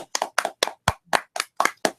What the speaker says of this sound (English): Let's clap for the graduates.